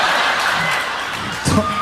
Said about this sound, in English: all I hear is clapping